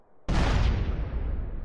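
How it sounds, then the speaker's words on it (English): A single loud explosion in a GTA San Andreas DYOM mission, a sudden booming burst that hits hard and then rumbles on with a long, slowly fading roar. "One more explosion."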